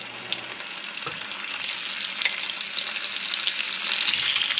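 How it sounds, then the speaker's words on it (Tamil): Eggs frying in hot oil in a kadai give a steady, bright sizzle with crackling pops, building slightly louder over time, close up with no talking. "எண்ணெய் சூடானதும் ஒவ்வொரு முட்டையாக எடுத்து நம்ம கடாயில் போட்டுக்கலாங்க"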